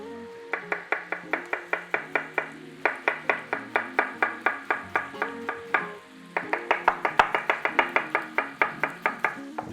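A knife cuts onions into thick slices on a board for tartiflette, giving steady rhythmic chopping knocks in quick bursts with brief pauses, close and clear, with no talk.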